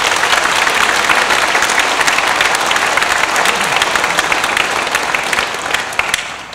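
A church congregation applauds the parish women's group during an Easter Vigil Mass in Virginia, a loud, dense, steady round of clapping from many hands that carries on unbroken and begins to thin only at the very end.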